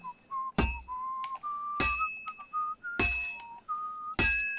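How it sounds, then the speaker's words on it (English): A character in Kingdom Come: Deliverance II whistles a steady, clear tune while working, broken by four loud, sharp metallic clinks spaced about a second apart. "Dude, do you hear how he's whistling?"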